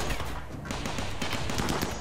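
Colonists open fire in RimWorld as a raid hits the base entrance, a dense clatter of rapid shots layered over one another and running steadily for about two seconds with no pause.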